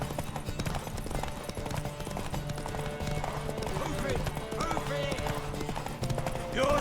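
Hooves clip-clop in a steady trotting rhythm from a horse in The Witcher 3, near and continuous, blended with background music and occasional speech.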